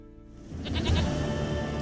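A goat bleats in The Witcher 3, one long wavering cry over steady game background sound.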